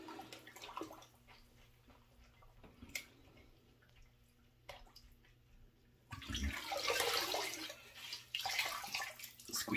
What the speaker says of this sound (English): I'm going to rinse off my soapy washcloth now.